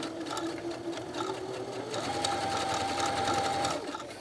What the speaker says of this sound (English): But I can also double stitch it down on the correct side.